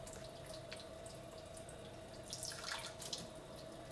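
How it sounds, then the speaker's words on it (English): A tablespoon of water poured into peanut butter batter for homemade peanut butter cups, a light splashing and dribbling heard over a steady background hum, with a few brief louder trickles near the end. "next thing I am just going to add is like 1 little tablespoon of water"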